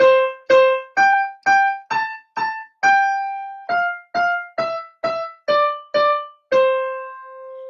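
A simple piano melody of "Twinkle Twinkle Little Star" in single notes without chords, about a dozen evenly paced keystrokes, each ringing briefly before the next, with the final note held longer.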